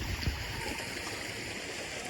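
Floodwater pumped out of flooded cellars gushes and rushes steadily nearby in a town under floodwater, a continuous broadband wash with no voices.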